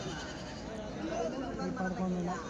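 Goats bleating among other livestock at the Kadiri weekly market, a few cries rising over a busy background of chatter and crowd noise.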